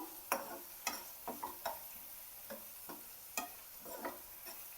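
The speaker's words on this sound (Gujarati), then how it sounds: "હવે આપણે આ મગની દાળ જે પલાળેલી છે એને એમાં એડ કરી દઈશું હવે એને પણ સારી રીતે મિક્સ કરી લેશું" Soaked moong dal is stirred into a vegetable curry in a pan, with soft, irregular scraping knocks of the spoon over a faint background sizzle.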